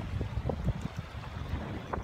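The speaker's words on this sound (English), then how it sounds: "It's windy and a little choppy." Wind buffets the microphone with a steady rushing roar, and water slaps irregularly against a boat on a choppy sea.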